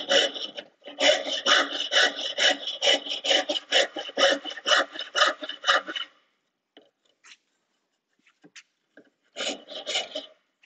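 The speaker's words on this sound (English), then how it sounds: "we are just going to attack that with the rasp and see what happens" A rasp scrapes wood during carving, a quick run of close, rhythmic rasping strokes, then a pause with faint scuffs before a few more strokes resume.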